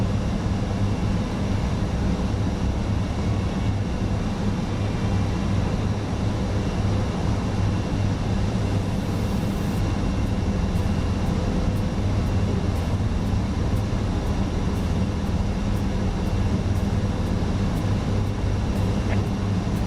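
An ATR 72-600 turboprop climbs toward cruise in Microsoft Flight Simulator, giving a constant broadband cabin roar with a steady low drone throughout. No one speaks.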